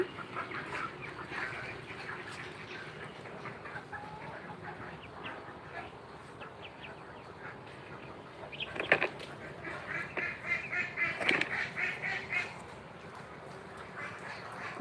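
Ducks quack in scattered bursts at a distance over a soft village background after rain, growing busier and louder for a few seconds before settling.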